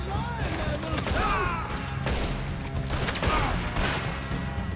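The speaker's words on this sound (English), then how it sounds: "Just wasted bullets here. That's all I'm doing." Gunfire in Red Dead Redemption 2 rings out in a dense, rapid fusillade of cracking shots and crashes, loud and continuous, with scattered voices mixed in.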